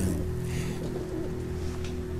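Pigeons coo in the Hitman video game, a low, steady, repeating murmur against constant game ambience with no talking.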